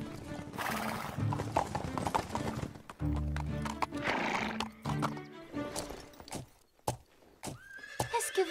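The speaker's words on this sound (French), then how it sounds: "Viens vite, regarde les petits chevaux!" Cartoon horses, including foals, whinny loudly and repeatedly as hooves clatter nearby, the neighs rising and falling in bursts with brief pauses between them.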